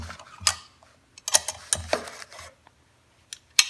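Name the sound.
tightening a bolt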